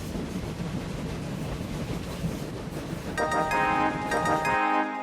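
Trains rumble steadily in the video game Train Valley, a dense, continuous rolling noise that gives way to a bright, tonal game chime near the end.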